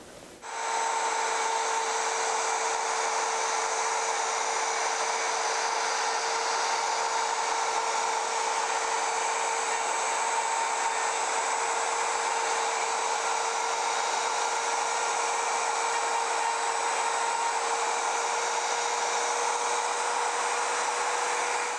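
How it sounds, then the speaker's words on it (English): A power tool making a first test cut in wood with a neck angle jig, starting abruptly and running as a steady, high-pitched whine with a constant tone for about twenty seconds, no voices. "I'm going to go just a skosh more and make that first cut"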